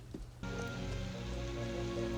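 Steady rain pours down in a film scene, a dense, even hiss that starts abruptly and keeps going at moderate volume without voices.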